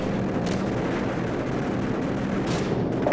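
Aircraft gunfire and explosions from the video game Call of Duty Modern Warfare, a steady dense rumble of distant artillery-like blasts and shots with a few sharper bursts, continuous and loud throughout.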